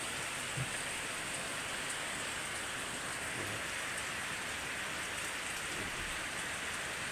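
Steady rainfall hissing evenly on surfaces outdoors while the sun shines, a constant dense patter with no pauses.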